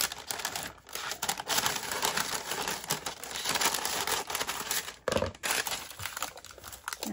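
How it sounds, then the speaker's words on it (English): Paper is cut to size for a Cricut mug press: close, dense crisp snipping and crinkling rustle with a couple of short pauses, no voices. "I'm just going to cut this to the size I need."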